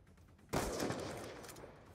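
A single sniper rifle shot cracks out in GTA Online after a quiet moment, followed by a long, fading rumbling tail. It is fairly faint overall.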